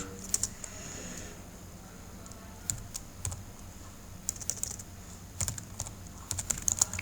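Someone types text into an HTML form field on a computer keyboard, producing quiet, irregular clicky keystrokes in small bursts that grow busier toward the end, with no talking.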